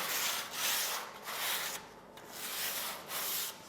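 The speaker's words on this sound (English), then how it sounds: "you must use the sandpaper and smoothen it out" Sandpaper smooths a freshly cut aluminium edge in back-and-forth strokes, making a close, rasping scrape in rhythmic bursts of about half a second with short gaps between them.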